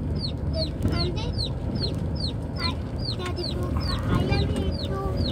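Chickens cluck and chirp repeatedly in quick, irregular calls over a rustling background, fairly close.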